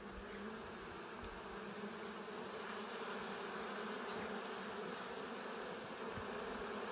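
Swarm of wild honey bees buzzing steadily during a forest bee hunt, a dense continuous drone close around the listener with no voices heard.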